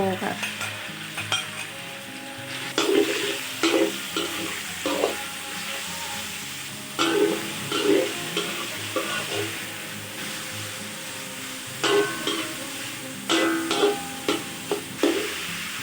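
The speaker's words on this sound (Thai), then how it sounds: "พอเราเจียว หมูสามชั้นให้น้ำมันออกมา บ้างนะ" Half a kilo of pork belly fries in a ladleful of oil, rendering its fat with a continuous close sizzle, while a utensil scrapes and stirs in periodic clattering bursts.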